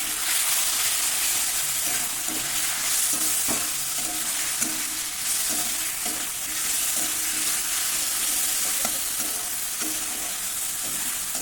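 Ground spices sizzle steadily in a pan for a Bengali potato and soyabean chunk curry, with rhythmic scraping strokes of a spoon stirring them, close and loud, with no talking.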